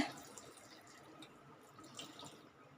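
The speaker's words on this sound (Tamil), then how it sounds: "இதுக்கு தேவையான அளவு தண்ணி விட்டுக்கலாங்க" Water trickles into a pot of jackfruit seeds being cooked into a gravy, a faint, steady pouring hiss throughout with no voices.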